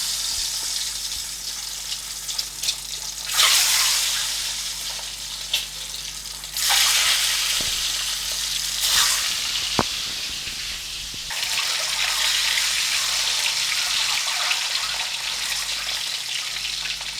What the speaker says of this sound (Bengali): একই তেলে ডিমগুলো আমি ছাড়তে শুরু করলাম।